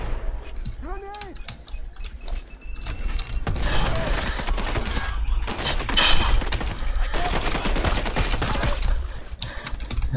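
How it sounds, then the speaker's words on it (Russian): Gunfire aimed at the player in the shooter game Sniper Ghost Warrior 3, with rapid bursts and scattered shots crackling over several seconds, fairly loud, mixed with other game sounds and a voice talking. "Кто по мне стреляет?"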